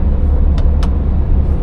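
A truck engine pulls steadily as the vehicle slows with no brakes applied, giving a loud, constant low rumble close by, broken by two short hissing bursts.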